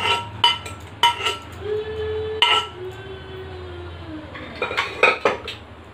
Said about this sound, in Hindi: उसके ऊपर छलनी को इस तरह से रख लें, और फिर जो टमाटर आपने कुकर में पकाया है उसे इस छलनी में डाल दें